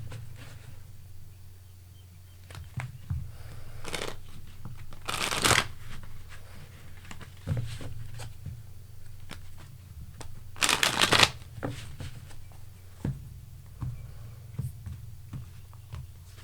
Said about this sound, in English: let's just pull cards real quick, just to clarify why did this one come up?